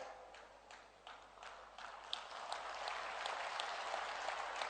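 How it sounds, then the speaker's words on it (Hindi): A crowd at a statue unveiling ceremony claps in a steady, building patter of many hands, filling the space evenly and growing slightly louder toward the end. "अरे भाई तुरंत ताली मत बजाइए"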